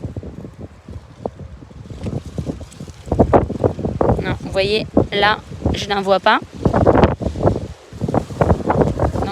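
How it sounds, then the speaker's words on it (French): Strong gusts of wind buffet the microphone in an open vineyard, producing rough, rumbling bursts that rise and fall, while someone speaks over them. "il y a beaucoup de vent, ce qui est super"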